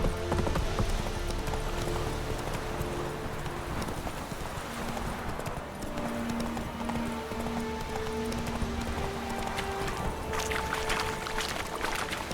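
Roach, Geralt's horse in The Witcher 3: Wild Hunt, gallops with steady rhythmic hoofbeats under a continuous game music score, loud and close, with no talk.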